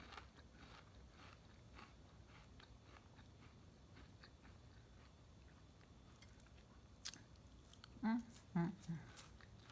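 Crispy, sweet buñuelos being bitten and chewed close up, with faint mouth sounds building to a few sharp, loud crunches near the end.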